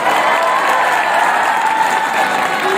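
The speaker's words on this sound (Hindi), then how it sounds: "इनकी जोरदार तालियां" A school crowd at an annual function applauds a teacher, with steady, full clapping that holds at an even level for the whole stretch, with no voice over it.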